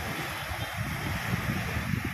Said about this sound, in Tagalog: Nakikita na po natin na sobrang ganda ng hampas ng alon